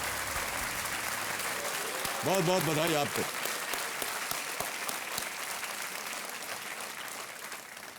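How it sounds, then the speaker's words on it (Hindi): Studio audience applause on the KBC (Kaun Banega Crorepati) quiz show, a steady dense clapping that fills the whole stretch, with a voice speaking briefly over it. "तालियों के साथ इनका हम अभिनंदन करते हैं।"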